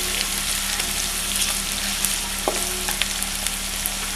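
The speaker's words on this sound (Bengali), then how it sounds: "পেঁয়াজটা লাল করে ভাজবো না, একটু হালকা করে ভেজে নেব" Chopped onions fry lightly in oil in a pan for Old Dhaka chicken tehari, a steady soft sizzle with occasional stirring taps, no talking.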